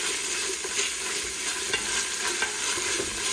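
Meat and radish frying in curry in a pan, a steady close sizzle with stirring scrapes and small bursts of crackle throughout.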